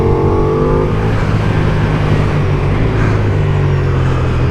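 Ducati Diavel V4 motorcycle fitted with an aftermarket exhaust, its engine droning steadily and loudly with a deep, even tone for the whole stretch, no talking over it.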